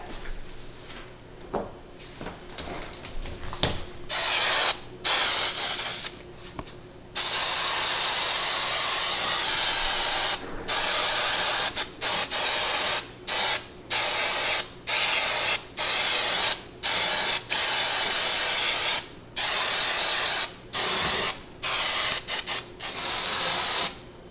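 Repeated hissing bursts of a spray glue can held upside down, close up, a long continuous spray followed by many short sprays in a quick irregular rhythm.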